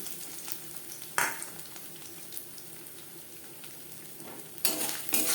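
Broken dried red chillies with whole cumin and bay leaves fry in hot oil in a pan, giving a soft continuous sizzle with a couple of sharper stirring clatters.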